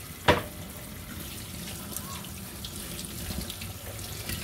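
A kitchen tap runs steadily as a kilo of food is rinsed under it. A sharp splash comes at the start, then an even, moderate stream of water continues.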